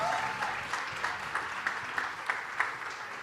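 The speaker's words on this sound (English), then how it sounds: "Let's give them another round of applause." A crowd at a school graduation fashion show applauds graduating seniors, a steady wash of clapping with periodic louder claps nearby, moderately loud throughout.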